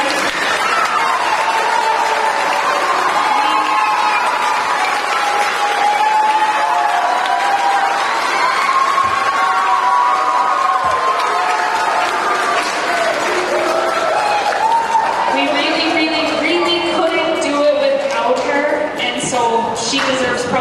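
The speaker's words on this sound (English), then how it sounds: "She deserves probably another round of applause." A school spring band concert audience gives sustained applause and cheering for a band volunteer, a dense, loud wash of clapping and crowd noise lasting the full twenty seconds, with voices and whoops mixed in.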